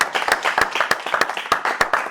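A small group claps at an awards ceremony, the individual claps distinct and irregular over about two seconds, close and moderately loud with no talk.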